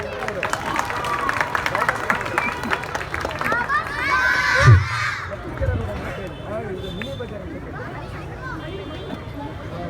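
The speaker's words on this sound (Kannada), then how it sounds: "ಒಂದ್ಸಲ ಮತ್ತೊಮ್ಮೆ ಮಗದೊಮ್ಮೆ ಜೋರಾಗಿ ಚಪ್ಪಾಳೆ ಬರಲಿ." Crowd applause and cheering for the Street Titanz dance team, a dense close wash of clapping and shouts that swells midway then settles under general crowd chatter.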